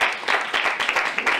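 Theater audience applauding, a dense burst of many hands clapping close and fairly loud, with no other sound over it.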